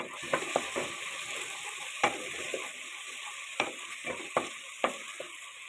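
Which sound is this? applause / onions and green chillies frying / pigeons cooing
onions and green chillies frying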